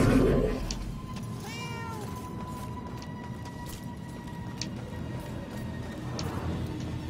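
A single drawn-out cat meow from the video game Murdered: Soul Suspect, heard close against a steady low murmur of in-game ambience, with a faint voice briefly at the start.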